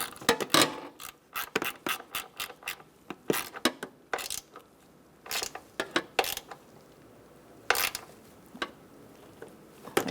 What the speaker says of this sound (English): let's snug up our bolt here